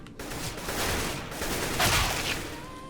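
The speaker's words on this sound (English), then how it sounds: "this gives bots AKs if you want to make it harder for yourself when they're shooting at you" Bots firing AK rifles in CS:GO, a fairly faint, steady stream of overlapping gunshots and bursts throughout, growing a little louder midway with no one talking.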